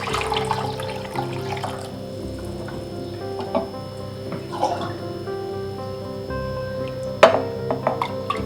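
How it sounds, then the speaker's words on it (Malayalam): Lukewarm water is poured into a frozen ice bowl mold, giving a continuous close trickle and splash with faint clinks and a sharper knock near the end, and no voices. "കുറച്ച് വെള്ളം അതിനകത്തേക്ക് ഒഴിച്ചാൽ മതി."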